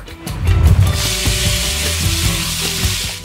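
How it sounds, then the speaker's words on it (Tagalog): Pork shoulder strips hit a pan over medium heat, a loud burst of sizzling that settles into a steady crackling fry with faint utensil knocks, no talking. "Lutuin natin yung pork."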